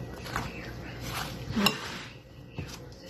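Spoon stirring cinnamon into apple pie filling in a bowl, a few soft scrapes and one sharper clink of metal against the dish, close and quiet.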